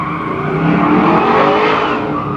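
A Chevrolet C10 pickup on its final racing lap roars past the tower, loud and close, engine note swelling as it nears and fading as it pulls away, with a faint tire squeal.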